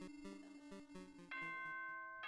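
Announcement chime from the video game Danganronpa 2: Goodbye Despair, a short sequence of bright, clear bell-like tones with no talking.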